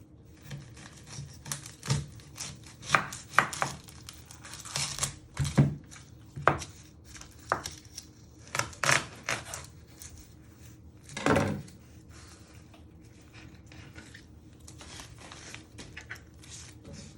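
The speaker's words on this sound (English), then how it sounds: "You first chop your end off using your sharp knife." A sharp kitchen knife chops through an onion on a cutting board, giving a series of irregular close taps and thuds with short pauses between cuts.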